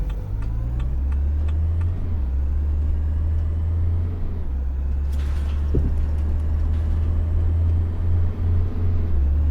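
A tour bus in Tourist Bus Simulator pulling away, a low, steady diesel engine drone with a gear shift partway through and faint ticking clicks above it, close and continuous, no talking.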